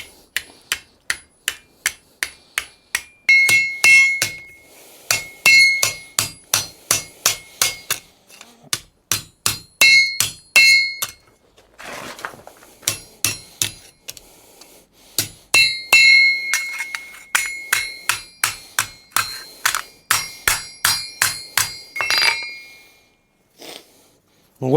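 Repeated sharp hammer blows ring against hot steel as a sword blade is flattened on the forge with a horn mallet, coming in fast bursts of many strikes separated by short pauses, close and loud.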